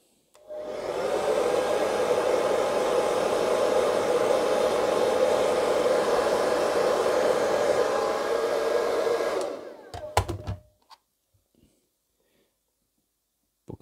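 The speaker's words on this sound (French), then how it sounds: "On y remet un petit coup de sèche-cheveux." Hair dryer blowing hot air onto a decal on an Italeri Lancia Delta plastic model kit, a steady loud whoosh lasting about nine seconds before cutting off, followed by a few small handling clicks.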